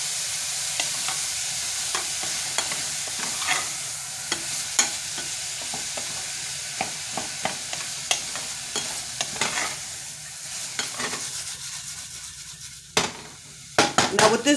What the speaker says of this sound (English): So I saute the vegetables with the meat for about 5 minutes until the onions is almost translucent